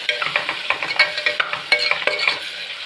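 Karnataka-style sambar ingredients frying in a pan, with a bright continuous sizzle broken by quick repeated scrapes and clinks of a spoon stirring, close and fairly loud.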